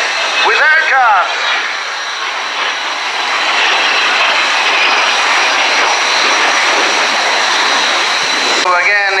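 Aircraft engines at the 2018 RIAT airshow at Fairford, England, roar loudly and continuously throughout, a broad steady rushing drone, with a voice heard briefly at the beginning and again at the end.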